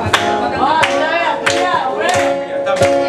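Rhythmic audience clapping along to danceable music at a live Spanish TV music show, steady claps repeating about every two-thirds of a second under singing and band.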